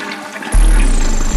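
A toilet flush used as a sound effect in a slowed, reverb-heavy rap song: a sudden loud rushing, gurgling surge of water that swells in and dominates the mix for about a second.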